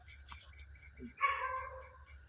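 A single dog gives a short bark or yelp, moderately close, against a quiet low hum.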